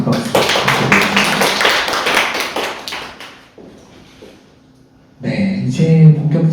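Audience at a rural care-service briefing session claps in a brisk burst that fades after a few seconds, then a short lull before a voice speaks over renewed noise.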